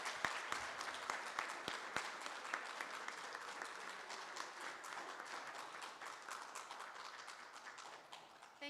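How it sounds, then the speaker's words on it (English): Audience applause for student musicians at a band and choir banquet, a moderate hall full of clapping with crisp individual claps near the start that settle into a steady, gradually fading round. "So please give all of our student musicians another round of applause."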